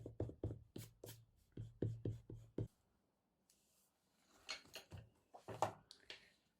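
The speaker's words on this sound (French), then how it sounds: "on va bien prendre soin d'effacer avec la gomme les marques que nous avions faites avec notre" Rubber eraser rubbing out pencil marks on a paper card, a run of quick, close scrubbing strokes, then a brief pause and a few softer, scratchier strokes; quiet with no speech.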